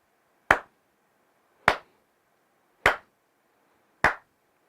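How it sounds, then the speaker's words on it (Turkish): Four sharp single hand claps ring out alone at an even pace, each a crisp close transient with a short decay, recorded through a Saramonic UWMIC9S wireless microphone during a latency test. "Hemen şimdi sizlerle beraber alkış testini yapıp latency seviyelerini sizin de görmenizi istiyorum."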